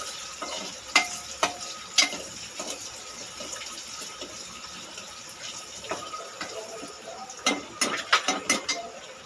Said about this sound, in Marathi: असं छानपैकी त्याचा कच्चापणा जाण्यासाठी आपण 1 ते 2 मिनिटं त्यांना ढवळून घेणार आहोत.